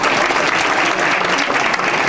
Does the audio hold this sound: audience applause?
yes